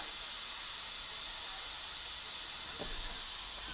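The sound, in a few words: steam hissing from Instant Pot pressure release vent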